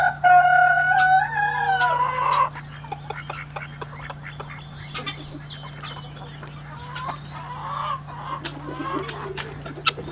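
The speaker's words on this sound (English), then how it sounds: "while I let the chickens out who supply us with meat and eggs" A rooster crows loudly and close by, a long wavering call lasting about two seconds, in a flock of chickens kept for meat and eggs. Soft scattered clucks and quiet farmyard chatter follow.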